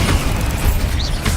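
A Bombarda spell explodes in the video game Hogwarts Legacy as a single loud, deep boom with a low rumble that fills the short moment.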